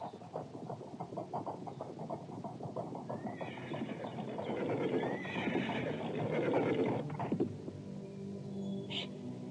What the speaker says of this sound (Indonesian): Mendadak dari arah berlawanan muncul dua orang penunggang kuda.